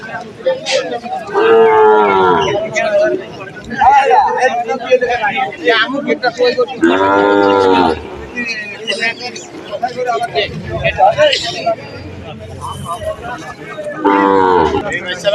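Calves moo loudly in repeated long calls at a rural cattle market in Chuadanga, with crowd chatter and a voice talking throughout.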